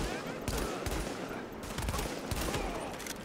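Player's gun firing in The Division, with rapid bursts of close, sharp gunshots in quick succession amid a noisy combat background, and no talking.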